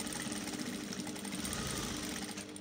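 A sewing machine stitches stretch fabric for a wide-leg jumpsuit, a fast continuous mechanical whirring drone with rapid steady pulsing, close and even for a few seconds, no voices.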